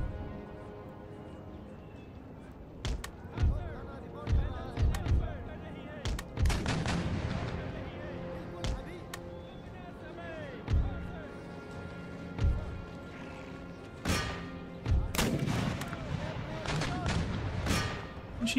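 A great gun fires round shot in an Empire: Total War battle, with repeated booming cannon reports and scattered musket fire spread across the clip. Voices talk over the battle noise.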